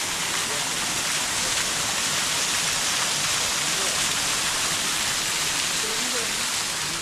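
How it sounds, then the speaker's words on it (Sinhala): Rukmal Ella, a small waterfall about 20 metres high in Kotmale, pours with a constant, dense rushing roar that holds steady from start to finish. "රුක්මල් ඇල්ල කියලා තමයි කියන්නේ මීටර් 20ක් විතර තමයි උස"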